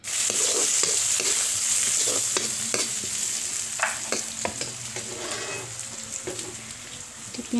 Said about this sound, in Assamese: পিঁয়াজখিনি ভাজা হৈ গৈছে